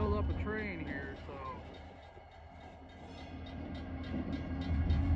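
Wisconsin & Southern WAMX 6029 and 6328 locomotives running light in Janesville to build a train: a low steady engine rumble and rolling clatter nearby, with a voice talking over it.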